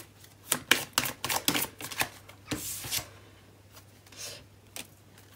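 Tarot cards are drawn and handled, giving a quick run of crisp shuffling snaps and slides, then a longer paper swish and a few scattered taps, all close and fairly quiet with no one speaking.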